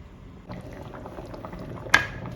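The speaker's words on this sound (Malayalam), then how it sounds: "ഇനി നന്നായിട്ടൊന്ന് തിളച്ച് വരട്ടെ" Chicken curry gravy simmers and bubbles in a pot, a soft continuous burble with small pops and one sharper clink near the end, close and fairly quiet.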